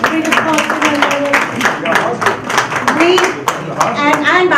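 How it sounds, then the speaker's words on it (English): Audience clapping at a Hispanic chambers of commerce event at Macy's, a dense steady burst of applause lasting throughout, with voices and cheering mixed in underneath. "Big applause for my mother."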